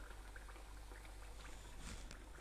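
Food sizzling as it fries in a pan, a faint, steady crackle and bubbling with light pops, ending in a sudden louder clack.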